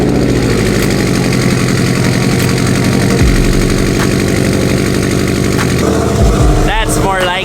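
Subaru car engine running without an exhaust, a loud, raw, steady roar that keeps up continuously and shifts pitch briefly near the end.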